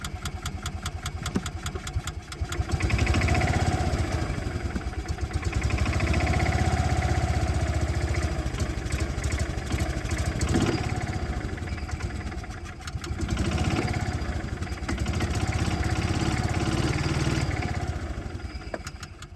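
A Bobcat Pioneer utility vehicle, a rebadged Club Car Carryall, runs on a damaged, torn-up carburetor, its small engine chugging loudly and unevenly up close with rhythmic pulsing and surging revs for the whole stretch.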